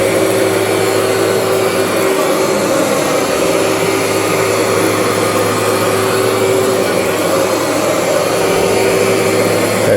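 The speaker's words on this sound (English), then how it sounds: "Vacuuming a carpet to get this fine dust out." A vacuum cleaner runs steadily and loudly over a carpet, pulling fine dust out with an unbroken whooshing drone that lasts the whole time.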